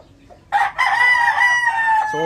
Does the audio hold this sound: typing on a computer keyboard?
no